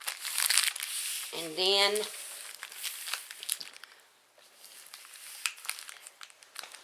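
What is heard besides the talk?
folding paper for canning bacon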